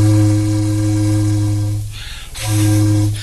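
Steamboat sound effect device giving a loud, sustained low whistle tone with hiss, briefly dropping into a breathy hissing gap before the whistle returns, heard alone.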